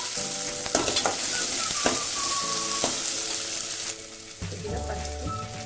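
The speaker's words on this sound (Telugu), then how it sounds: "ఇప్పుడు ఒక 1/2 స్పూన్ అల్లం వెల్లుల్లి పేస్ట్ పచ్చివాసన పోయే వరకు ఫ్రై చేసుకోవాలి." Ginger garlic paste fries in a pan with oil and a little mint for a leg soup, sizzling loudly and steadily up close, with occasional utensil knocks and stirring. Near the end the sound drops to a softer fry.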